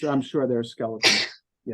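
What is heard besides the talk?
sneeze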